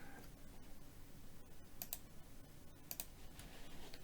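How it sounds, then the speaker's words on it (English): Computer keyboard keys pressed, with the shift key held to select faces in Autodesk Inventor, give a few soft, scattered clicks over a quiet room hum. No one speaks. "I keep pressed the shift button from the keyboard to select faces one after another,"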